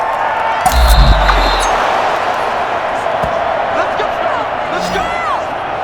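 A stadium crowd roars and cheers after a big play in Madden NFL 21, Eagles against 49ers. The broad, steady wash of cheering holds throughout, with a few thumps and whoops and a commentator talking over it.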